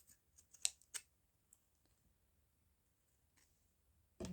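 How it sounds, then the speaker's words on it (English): Scissors snip fabric in a quiet room, giving a few faint, crisp cuts spaced irregularly, then a louder rustle at the end. "So I'm going to snip off that uneven or funny shaped bit."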